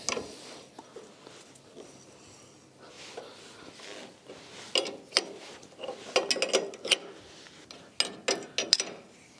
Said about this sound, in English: What I need to do now is to tighten the bolts, and the whole structure is connected together.